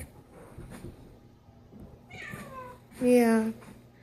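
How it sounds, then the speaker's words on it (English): A pet cat gives a short meow, loudest near the end, under quiet background noise and some low voice sounds. "Evie, baby cat."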